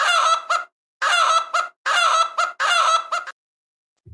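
A cartoonish fowl sound effect plays as four loud, evenly spaced bursts of honking squawks, each followed by a short tail, used as a cluck cue on an NFL playoff betting show.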